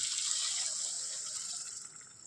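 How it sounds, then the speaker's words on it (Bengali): Hot water pours into a cooking pot of fish and split-pea dal, a steady close hiss and splash of running liquid that holds for about two seconds and tapers off gently at the end. "গরম জল দিয়ে দিচ্ছি"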